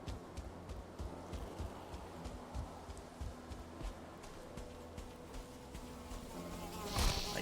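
Buzzing insect drone of mosquitoes in Valheim, a faint continuous hum beneath rhythmic footsteps and a brief rustle near the end, distant and low in level.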